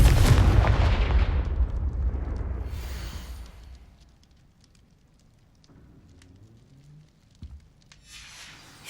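Confringo, an explosive curse in Hogwarts Legacy, goes off with a loud, close blast and a rumbling roar that fades over about four seconds into quieter crackling and faint scattered noises.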